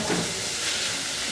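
Greens steaming in a pot, giving a steady, close broadband hiss of steam that runs unbroken and fairly loud for the whole moment with no talk.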